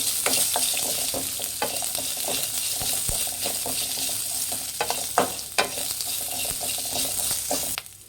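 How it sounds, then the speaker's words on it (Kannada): Thick-cut onion and ginger fry in a pan over a medium flame, a steady close sizzle broken by scraping stirs and light clinks of a spoon against the pan, with no voices. "1 ಈರುಳ್ಳಿ ಹಾಕ್ಕೊತಾ ಇದ್ದೀನಿ ದಪ್ಪ ಸೈಜಿಂದು. ಇದು ಅಷ್ಟೇ ಮೀಡಿಯಮ್ ಫ್ಲೇಮಲ್ಲಿಟ್ಟು ಫ್ರೈ ಮಾಡಿ"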